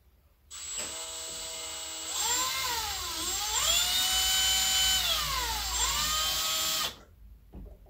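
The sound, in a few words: electric drill running slowly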